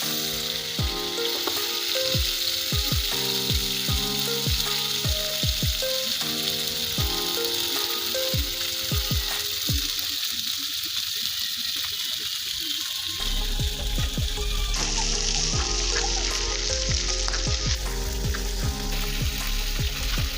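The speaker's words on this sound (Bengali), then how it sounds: "দোনো পিঠে ভালো করে তেলে ভেজে নেবেন মাছটাকে, তাহলে কিন্তু মাছটা করকরে হবে" Spice-coated magur catfish shallow-frying in hot oil on both sides, a steady close sizzle and crackle running throughout with music beneath it.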